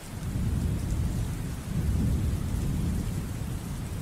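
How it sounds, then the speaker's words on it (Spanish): A thunderstorm with rain: a dense, steady wash of rainfall under a deep, rolling rumble of thunder that swells midway, loud and continuous for about four seconds, with no voices. "Y se puso a llover."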